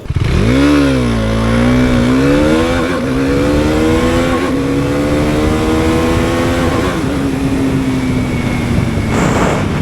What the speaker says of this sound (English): So KTM 390 Duke is not the fastest motorcycle.